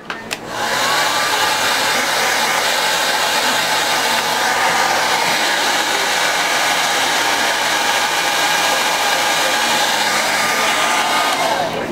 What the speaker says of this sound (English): Use your dryer.